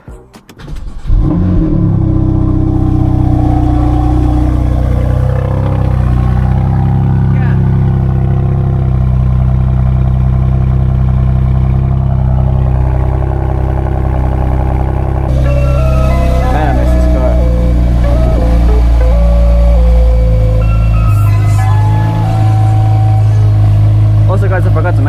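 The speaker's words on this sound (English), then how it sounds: "First startup in like 10 days." A car that has sat unused for ten days cranks and fires, then settles into a loud, steady idle with occasional revs, close by, with brief voices partway through.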